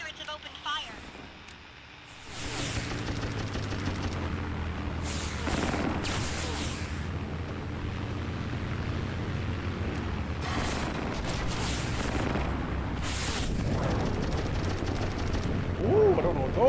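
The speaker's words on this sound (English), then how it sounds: "Pirates have opened fire." Pirate planes open fire in the Brew Barons video game, with a steady run of gunfire and explosive booms over a continuous engine drone, while a voice talks through the barrage.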